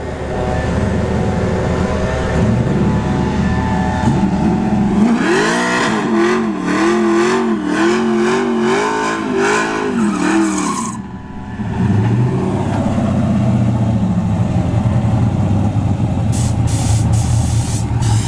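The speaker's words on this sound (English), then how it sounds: "Camaro's taking too long to do a burnout." A Camaro does a burnout at a drag strip, its loud engine held at high revs with a roaring, wavering drone and hissing tire spray, briefly dipping before surging again.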